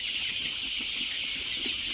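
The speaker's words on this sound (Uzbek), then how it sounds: "Jo'jalar sog'lom yuradi." A mass of Mekong chicks chirps in a dense, continuous high-pitched chorus, close and steady, with soft clucking beneath.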